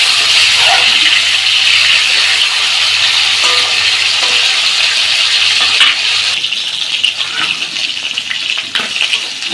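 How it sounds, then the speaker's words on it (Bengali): Pieces of bhola fish fry in hot oil in a home kitchen, giving a loud, steady sizzle and crackle throughout, with occasional stirring clatter and no talk. "আমার মাছ ভাজা হয়ে গেছে"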